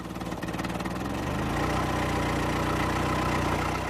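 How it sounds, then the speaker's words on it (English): A 1915 Ford Model T with a simple side-valve engine, assembled in Manchester from American parts, runs with a steady rhythmic engine note that shifts slightly about a second in, heard alone and close. "This is a 1915 Model T Ford, built at Manchester and assembled from parts sent in from America in knockdown crates."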